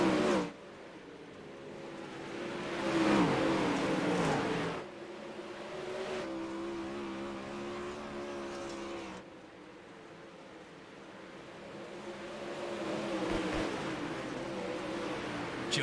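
Outlaw 360 sprint cars at a Weedsport race in iRacing roar off at the green flag, a dense pack of engines rising and falling in waves of revving that stays loud and close with no talk.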